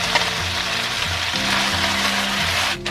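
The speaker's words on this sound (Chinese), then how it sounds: "我们加肥做法为了节约油，就这样干煎的也挺好吃" Fish dry-fried in a small amount of oil in a pan instead of deep-fried, giving a steady, close hiss of sizzling that holds evenly throughout, with a low hum underneath and no talk.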